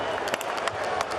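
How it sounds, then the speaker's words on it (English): Artificial crowd noise piped into a FIBA AfroBasket 2021 qualifier basketball game between Mozambique and Kenya: a steady, dense wash of murmuring and cheering with a few faint claps, continuous and even throughout. "the crowd noise you're hearing is artificial"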